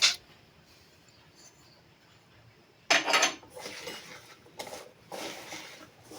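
Pabda fish being mixed by hand with spices, including black cumin and whole roasted cumin, in a bowl in a kitchen: quiet, then soft squelching and rubbing bursts with light clinks against the dish.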